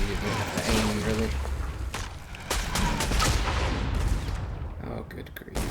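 Rapid AR rifle fire in a video game, dense bursts of gunshots and booms running almost continuously under a voice talking over the action.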